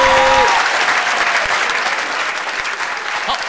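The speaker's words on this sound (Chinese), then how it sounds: "掌声鼓励" Studio crowd at a televised singing contest claps in a full, sustained round of applause that starts right after a short voice and holds steady, easing off gently toward the close.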